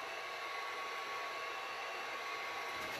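A heat tool blows steadily and continuously, a constant close hiss with a faint whine, while flexible molding appliqué is warmed to soften it on a piece of furniture being refinished.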